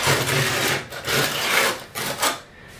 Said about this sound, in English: I'll use the smooth edge of my trowel, and I want to go over each of these screw heads